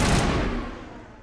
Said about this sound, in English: I forgot how loud the guns are in this game.